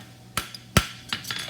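Sharp metallic hammer blows on a hot horseshoe being fullered: three or four distinct strikes spaced unevenly, ringing briefly, close and alone.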